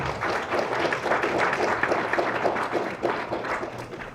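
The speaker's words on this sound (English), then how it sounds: "let's give her a round of applause" Audience applause at a youth community summit, a steady wash of many hands clapping at moderate loudness that fills the whole moment without pause.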